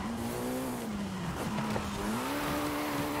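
A Jaguar C-X75 race car in Forza Horizon 5 holds a steady, fairly quiet engine drone that dips and climbs again while it shoves another car off the road, with faint scuffing from the contact.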